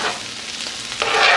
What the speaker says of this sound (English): You want to separate your kernels of rice and just fry it up a bit